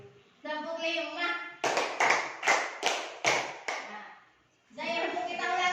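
Group of adults at a school workshop clapping in a counted rhythm, five sharp, evenly spaced claps, with voices speaking before and after.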